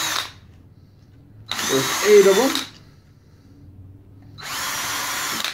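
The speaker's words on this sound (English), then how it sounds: "So you just drill on through." A power drill bores pilot holes through a gear to mount an encoder wheel, running in two loud sustained bursts separated by a quiet gap, with a person briefly speaking between them.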